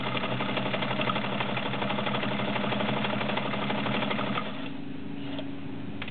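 A vintage Kenmore model 1303 sewing machine stitches zigzag in a steady, fast mechanical whir close by, then slows to a quieter, lighter running hum near the end.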